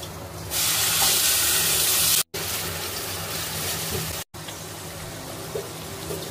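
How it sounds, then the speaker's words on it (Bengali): Chopped onions fry in hot oil left from frying kofta, with bay leaf in the pan, giving a loud, steady hiss that runs throughout with two brief dropouts. "এরপরে আমরা দিলাম পেঁয়াজ,"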